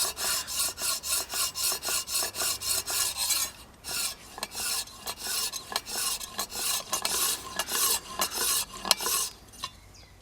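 A woodworking tool's edge stroked back and forth on a 300-grit coarse sharpening stone: steady rhythmic rasping scrapes, close and loud, with a brief pause before the strokes resume.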